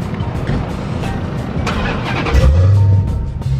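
A Dodge Challenger Hellcat's engine cranks and catches close by, a deep rumbling burst swelling out of steady background noise, with no talk.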